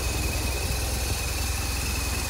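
A 2005 BMW R1200ST motorcycle with a stock exhaust idles steadily up close, a loud, even low pulsing with a faint high whine running over it.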